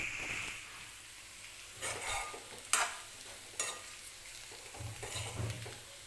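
Potatoes for a potato bhaji fry quietly in a pan, a soft steady sizzle broken by a few sharp stirring scrapes and clinks.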